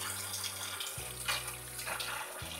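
Tap water running into a sink while dishes are washed at home, a steady hiss with occasional clinks and a low humming tone underneath.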